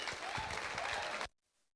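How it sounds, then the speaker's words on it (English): A church congregation gives a standing ovation, with dense, steady clapping that fills the room and then stops abruptly, leaving near silence. "give Sal a standing ovation"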